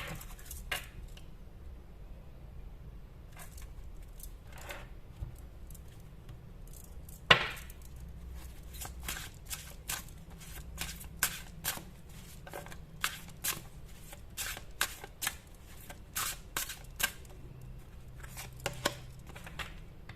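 Tarot cards being shuffled by hand, giving a long run of crisp, close riffling clicks and flicks that come in irregular bursts over a faint low background hum, with no talking.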